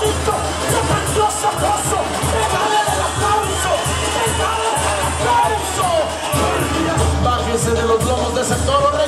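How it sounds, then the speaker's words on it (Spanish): Packed crowd at a bullfight, loud continuous cheering, whoops and shouting with bursts of clapping, dense and close throughout. "¡Regálele el aplauso!"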